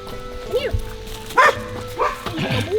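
Dogs out on a trail near abandoned mountain towns at Cumberland Gap National Park give short, moderately loud barks and rising whimpering yips in a few scattered bursts, with a voice partly mixed in.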